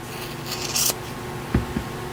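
Scissors snip through tassel threads, a short crisp cutting crunch followed by a couple of quieter snips, close up over a steady low background hiss.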